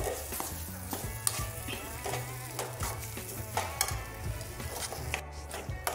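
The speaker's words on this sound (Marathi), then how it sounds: "आणि आता हे मिश्रण मी सतत 5 मिनिट हलवत राहणार आहे" A spoon scrapes and stirs repeatedly through a gram flour and chopped capsicum mixture in a pan over a soft sizzle, with irregular knocks and clinks close by.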